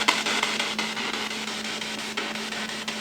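Harsh, broadband radio static hisses steadily after a device is switched over to the AM band, with a faint constant tone beneath and irregular crackling pulses throughout, no voices.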